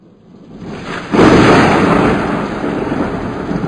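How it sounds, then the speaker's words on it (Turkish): A loud, deep rumble bursts in after a quiet start and rolls on steadily for several seconds, broad and roaring like thunder with no voices. "yıldırım düştükten bir süre sonra gök gürültüsünü duyarız"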